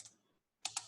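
Computer keyboard typing while entering a spreadsheet formula, a few quiet, close keystrokes: one click, a short silence, then two crisp taps.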